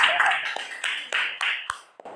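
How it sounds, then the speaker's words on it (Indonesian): A few sharp hand claps land in an uneven burst over a steady background hiss during an Indonesian podcast-style talk show about graphic design. The claps come from one or two people nearby. "Tepuk tangan."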